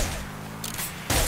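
Splinter Gun, a shotgun-like weapon in the video game Nuclear Throne, fires in two quick loud bursts with a brief gap between them.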